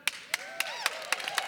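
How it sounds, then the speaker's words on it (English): A few scattered handclaps from an audience ring out as sparse, sharp separate claps in an irregular rhythm, fairly faint, with a thin voice underneath. "Yes, applause is called for."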